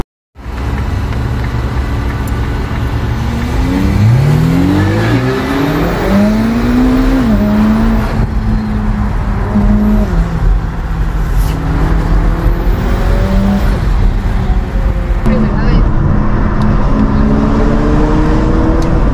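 A Porsche 911 Turbo S chasing a Ferrari SF90 on a road, its engine loud and close, climbing through rising revs with gear changes that drop the pitch, then pulling hard again in a sustained, continuous roar.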